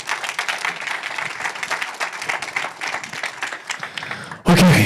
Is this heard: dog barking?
no